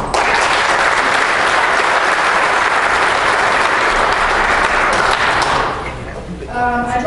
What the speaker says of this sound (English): If you guys give her applause.